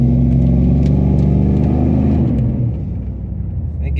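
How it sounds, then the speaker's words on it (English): An old-body-style two-wheel-drive pickup's engine roars loud and close under heavy throttle while climbing a snowy hill, a deep strained drone that drops off near the end. "Let's see what happens if I give it too much throttle"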